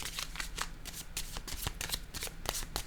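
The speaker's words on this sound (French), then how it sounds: "Je vais déposer une carte rose." Tarot cards being handled and laid down, a rapid run of close, papery flicks and soft slaps that repeat steadily, like a deck being shuffled, with no talk.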